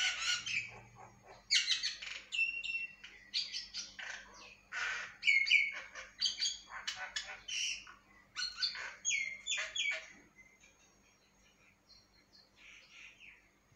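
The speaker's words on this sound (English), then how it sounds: "making nice bird sounds" Birds chirping and calling repeatedly for several seconds, a busy mix of tweets and harsher caws, fading toward the end.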